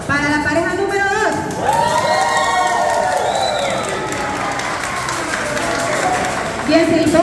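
Audience cheering, clapping and whooping for the second couple at a dance contest, a lively crowd din with shouts and voices talking over it throughout.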